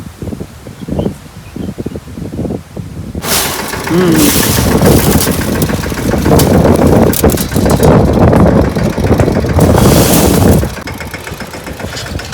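A tractor engine rumbles steadily, louder and nearer after a few seconds, with rustling and wind noise outdoors in a soybean field, then eases slightly near the end.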